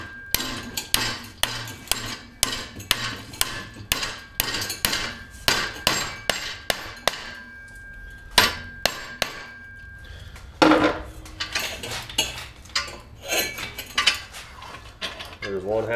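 Metalwork on 5/16 steel round rod clamped in a vise, a series of loud, regular metallic strikes and clanks with ringing tones, repeating roughly every second over a continuous low hum.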